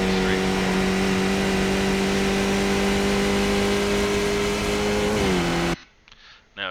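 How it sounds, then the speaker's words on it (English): A Skip Barber race car engine in iRacing at Mount Panorama holds a loud, steady drone, then drops in pitch as it upshifts into fourth gear before the sound cuts off and a voice is briefly heard. "Now you heard there I shifted up into 4th."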